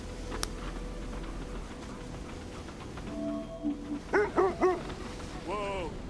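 Sled dogs in the video game Kona II: Brume give a few short yips and barks near the end, fairly close, after a stretch of quiet wintry ambience and low rumble.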